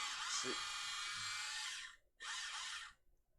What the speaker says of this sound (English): So I've got a stuck drill bit.